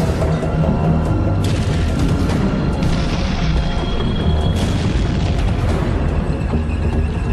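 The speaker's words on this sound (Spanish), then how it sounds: "El sonido de los disparos" Heavy, rumbling World War II gunfire and booming blasts in a tank battle in Lorraine, France, with several sharp bursts cutting through a constant low roar.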